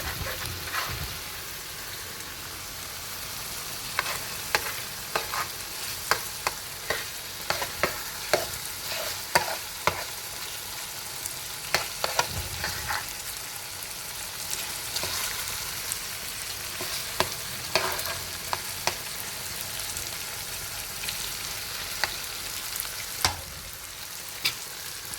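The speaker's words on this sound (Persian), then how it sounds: "این وسط یه کمی سرخش میکنیم، شعله هم میکشیم بالا یکم سرخ بشه این گوجه ها." Tomatoes and liver frying over a high flame in a pan, a steady close sizzle broken by frequent sharp crackles and pops, with no one talking.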